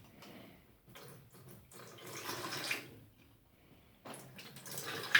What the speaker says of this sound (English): I want to get my liquid away from the curds, and so I'm gonna pour it out